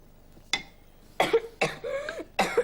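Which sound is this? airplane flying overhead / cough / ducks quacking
cough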